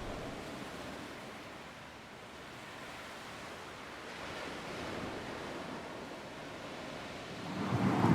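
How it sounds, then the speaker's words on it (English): Rough, stormy sea with loud wind: a steady broadband roar of surf and gusting air throughout, swelling louder toward the end, with no voices. "The sea works high, the wind is loud"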